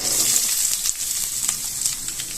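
Finely chopped large onion hits hot oil with popping mustard seeds in a pan, giving a loud, close, dense sizzle with crackling bursts throughout, heard alone.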